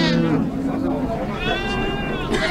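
A recently kidded nanny goat bleats in short wavering calls at a pig and sheep market in Capoeiras, close by, while someone talks over it and crowd babble fills the background.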